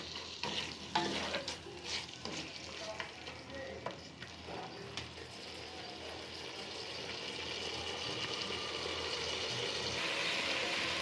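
Goat head meat with potatoes stir-frying in a pan, soft sizzling with scattered spatula scrapes early, easing into a steady, faint frying hiss.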